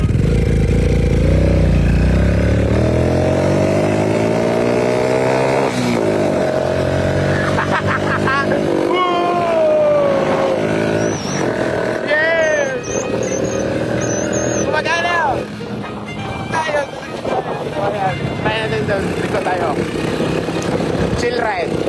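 A track motorcycle fitted with a GN Works direct carburation throttle system revs and runs loud and close, its engine note climbing and dropping through quick throttle blips while someone speaks over it.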